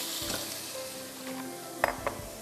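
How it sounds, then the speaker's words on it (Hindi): Chicken pieces sautéing in oil with onions in a pan, a steady soft sizzle with a couple of sharp utensil knocks near the end, close and alone. "चिकन को सौटे करिएगा अच्छी तरह।"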